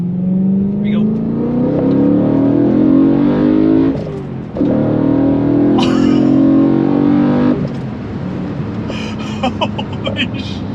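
Modified BMW S65 V8 with an aftermarket plenum, revved hard under load in loud, rising sweeps with a brief dip near four seconds; the snarling roar fills most of the clip before easing to a rougher idle-like rumble.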